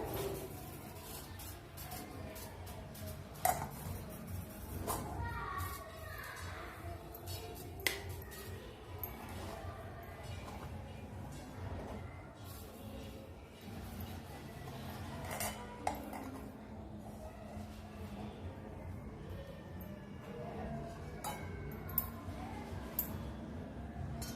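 Semolina scraped from a pan onto a plate in a home kitchen, with steady metal utensil clinks and scraping and a few sharper clicks over a continuous low background, no talking.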